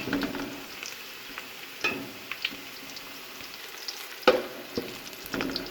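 Onions fry in oil in a pan over a medium flame with a soft crackling sizzle, broken by a few sharper spatters and light stirring knocks, fairly quiet and close.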